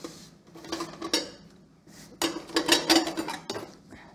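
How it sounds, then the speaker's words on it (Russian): Ceramic plates clatter and clink as they are pulled from a kitchen cupboard and set down on a counter, arriving in two clustered bursts of knocks separated by a short pause. "Господи, разномастные какие-то тарелки достал."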